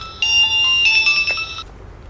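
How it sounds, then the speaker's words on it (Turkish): A telephone rings in a drama scene with an electronic ringtone: a loud run of bright, steady tones that plays for about a second and a half and then stops, heard alone. "Abi telefon."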